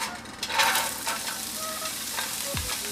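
Onions hit a hot pan of rendered bacon fat and sizzle loudly, with stirring scrapes and a steady crackling hiss throughout, no talking.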